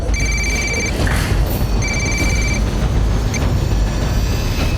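Telephone ringing in a crime drama scene, two distinct bursts of an electronic ring tone separated by a short pause, clear and fairly loud over a dense low background rumble.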